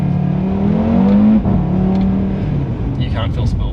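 An Audi RS3 facelift engine revs steadily around 4,000 RPM, a loud, continuous turbocharged drone close by with a slight pitch rise, then holding under faint road and cabin noise.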